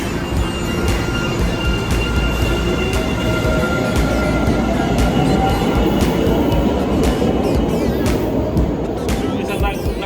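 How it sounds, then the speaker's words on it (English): A loud, steady Boston train rumble with a low mechanical drone and faint high whine, continuous throughout. "There we go, we got the new train."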